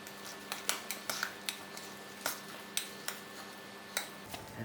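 Spring onion being mixed into smooth mashed potatoes, heard as a run of light, evenly spaced utensil taps and clinks against a bowl, fairly quiet and with no voices.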